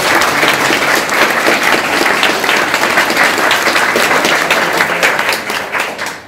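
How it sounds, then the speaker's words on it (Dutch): A crowd gives warm, sustained applause at the opening of the Frankenstein exhibition at Rijksmuseum Boerhaave, dense steady clapping filling the room before fading near the end. "Geef ze een warm applaus,"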